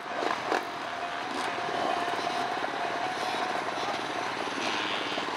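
Several two-stroke dirt bikes rev together at the start of a 2019 hare scramble at Hollister Hills, making a dense, steady engine roar that stays loud and continuous, with no voices over it.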